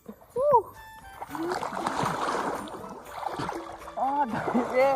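Splashing in cold, clear water while bathing outdoors: irregular sloshes and splatters run through the clip under talking and exclamations from people nearby.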